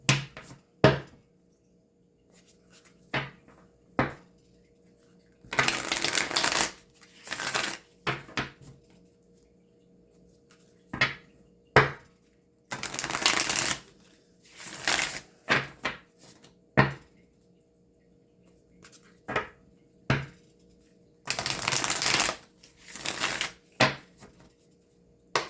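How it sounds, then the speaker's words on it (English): Tarot cards being shuffled during a reading, heard as repeated short riffling bursts separated by scattered soft taps and card handling, close and clear with quiet gaps between. "Trying to avoid shuffling while I'm reading"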